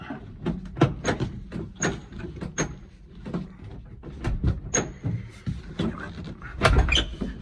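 Repeated sharp knocks, bangs and rattles of a stuck heavy door on a 1968 Mustang being forced open, with scraping and metallic clatter, loud and close, in irregular bursts.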